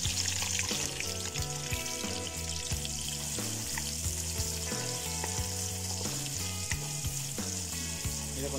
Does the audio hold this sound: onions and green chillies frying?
yes